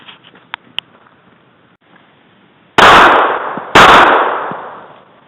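A Glock 26 pistol fires two sharp, loud shots about a second apart, each ringing briefly, after a few faint clicks and handling noises.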